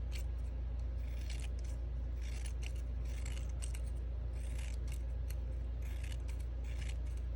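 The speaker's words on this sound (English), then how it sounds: "precision scissors and you're just going to fringe it, meaning you're just going to cut little strips" Small precision scissors snipping paper into fringe strips, a quiet series of crisp irregular snips and rustles close up, with no talking.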